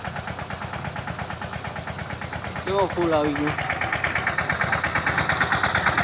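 A Steel Tech mini tractor engine runs steadily with a regular throbbing pulse while spraying pesticide in a mango orchard, someone talking close by over the mechanical drone.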